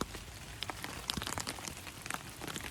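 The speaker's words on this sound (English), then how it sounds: "the rain that's hitting today" Rain patters on the Appalachian Trail, a faint, uneven crackle of drops striking nearby surfaces with scattered sharper hits, nobody speaking.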